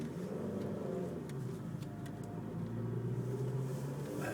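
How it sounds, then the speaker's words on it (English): A car labours in first gear up a steep incline on a single-track Scottish mountain pass, its engine droning steadily and loudly throughout with a low, strained tone and no talking. "you've got to put the coals on now, really, Dawn, in a very low gear"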